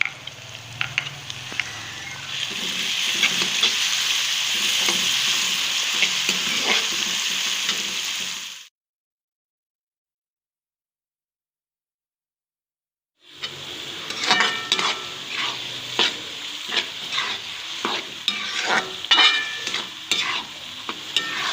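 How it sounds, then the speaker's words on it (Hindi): Loud sizzling and frying of minced meat with curry leaves, black pepper, garlic and ginger in a pan with stirring scrapes, a pause of silence, then more sizzling with clinking stirs, close up. "कीमे को अच्छी तरह हम भून लेंगे"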